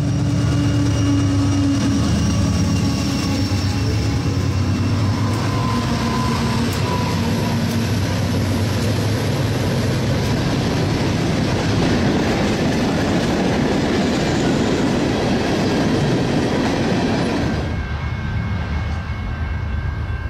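A long, empty CSX coal train rolls steadily past nearby, a continuous rumble with wheel clatter, then the sound drops away abruptly near the end.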